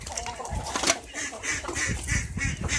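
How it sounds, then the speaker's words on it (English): A duck quacks repeatedly in loud, close, nasal bursts with short gaps, with some faint background noise around the calls. "Quit quacking at me"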